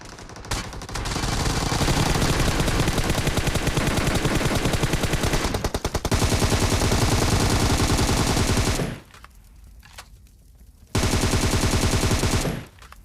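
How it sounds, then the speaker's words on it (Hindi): Rapid automatic gunfire in PUBG Mobile, loud and dense bursts that run for several seconds, break off briefly, then resume near the end. "यहीं पे लेट के गोली चलाई"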